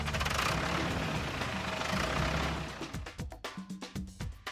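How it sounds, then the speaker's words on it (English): Tractor engine running with a loud, rough, continuous rumble that then slows into separate heavy chugs as it winds down to a stop. "tractor,"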